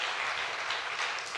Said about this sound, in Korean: 한 번 더 우리 박수 부탁드립니다.